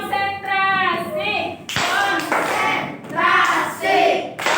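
A class of fifth-grade children stands to do a rhythmic concentration clap before a lesson, chanting in unison with clapped beats in short repeated bursts, loud and close.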